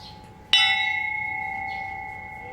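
A single sharp metallic strike on a solid steel 52-tooth motorcycle sprocket rings out like a bell, its clear tones sustaining and slowly fading over a couple of seconds.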